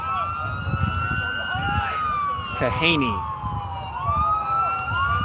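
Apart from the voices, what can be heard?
continued emergency vehicle sirens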